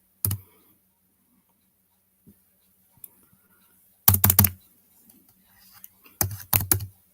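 Keystrokes on a computer keyboard come in short clustered bursts, a few isolated clicks and then two rapid flurries of typing, close and fairly crisp against an otherwise quiet room.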